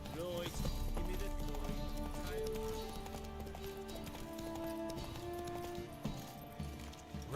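Roach the horse gallops in The Witcher 3, steady rhythmic hoofbeats under game music and ambience, with a voice talking over the hooves.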